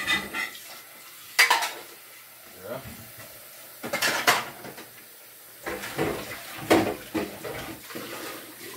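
Food is mashed in a bowl in a home kitchen, with irregular scraping, clinking and squelching of a utensil against the bowl in intermittent bursts, fairly close and moderately loud.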